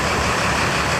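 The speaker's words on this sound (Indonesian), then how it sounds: "Ini bus sudah dihidupkan." Intercity bus engine running at the terminal in Palembang before departure, a loud, steady low rumble with continuous broadband noise and no breaks.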